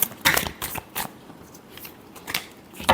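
Tarot cards are shuffled in quick bursts, giving a series of short, crisp riffling sounds close to the listener, with no talk over them.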